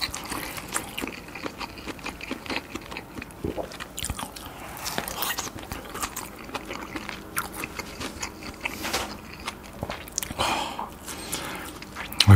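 Close-up biting and chewing of cheese-covered lobster with spicy red sauce and enoki mushrooms, heard as steady wet, crunchy mastication at close range, with no talking.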